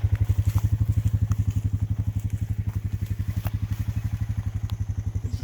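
A motorcycle engine idles close by on a farm homestead trail, a steady low rhythmic putter with even pulses throughout and no talking.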